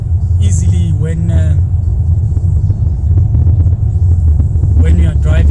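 An automatic car cruises on the highway from OR Tambo airport toward Pretoria, its engine and road noise a steady loud rumble under continuous talking.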